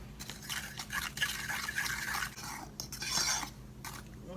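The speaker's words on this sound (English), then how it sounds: "So I'm gonna actually give this a good stir." A spoon stirs deer jerky marinade in a bowl, giving a soft, steady swishing and liquid scraping with faint clinks, quiet and close with no talk.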